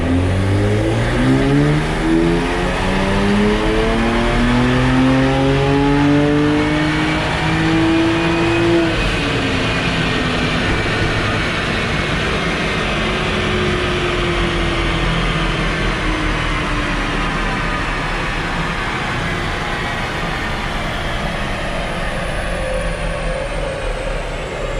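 A BMW E92 335is revving up on a dynamometer, engine pitch climbing steadily through a long pull then holding and easing off, loud and close with constant roar, no talking.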